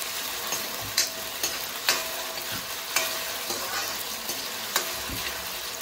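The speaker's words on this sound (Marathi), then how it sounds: "मस्त बटाटे फ्राय करून घेऊया पहिले." Potatoes frying in a pan on a home stove, a steady sizzle broken by several sharp clicks and scrapes of stirring, close and loud with no talking.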